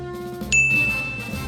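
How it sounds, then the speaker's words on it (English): A single bright bell ding from a Lionel toy handcar rings out over a steady mechanical hum and lingers as a sustained tone. "just remember, it comes with a bell sound."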